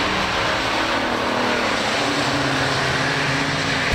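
A 1979 Chevrolet Camaro Z28 muscle car engine runs loud and steady, a dense continuous roar with a deep low rumble held throughout, ending in a brief bump at the very end.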